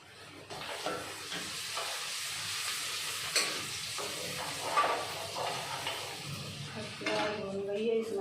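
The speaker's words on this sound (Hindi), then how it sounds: "इसको मसाले को चला देते हैं अच्छे से, फूल जाएगा तब तक थोड़ी देर।" Masala frying in a pan while being stirred, a soft continuous sizzle with scraping spoon strokes and light clatter of cookware, fairly quiet and close.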